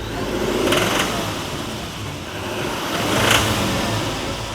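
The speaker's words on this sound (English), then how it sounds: "Rev it up." A brand-new diesel truck with DEF mixed into its fuel revs up twice, swelling and easing back in loud bursts over a steady idling rumble, close by with no talking.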